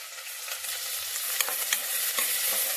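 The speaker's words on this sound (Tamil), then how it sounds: "நல்லா வதக்கி விட்டுருங்க." Onions and green chilies sauté in hot oil with cinnamon and cloves for tomato rice, a continuous bright sizzle with occasional soft stirring scrapes, close and without voices.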